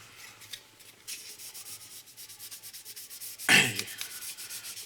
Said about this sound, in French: quand on fait du ponçage comme ça